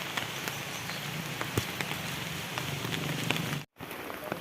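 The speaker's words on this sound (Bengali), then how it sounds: "বৃষ্টি পড়েই চলেছে" Rain falling continuously on a village path during a walk home from a shop, a steady soft patter with scattered drips close by, alone and unbroken apart from a brief cutoff near the end.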